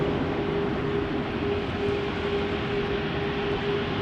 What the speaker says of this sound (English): Embraer 190 to Rennes will be taking off from Cheaters Lane